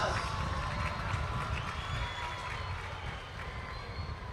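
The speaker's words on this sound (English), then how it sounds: "Let's give another round of applause." Crowd at a youth rally applauding and cheering continuously, a dense, steady wash of clapping and voices from a large audience throughout.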